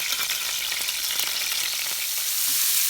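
Steady, loud stir-frying in a hot pan in a Thai home kitchen, a continuous bright sizzle with faint scraping and stirring accents running throughout, no voices.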